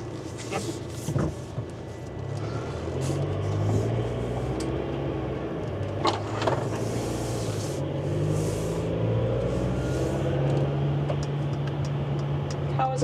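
New four-cylinder engine of a 2024 Airstream Atlas camper van on the move, a steady low hum and road rumble heard from inside the cabin, quiet and smooth with faint rattles throughout.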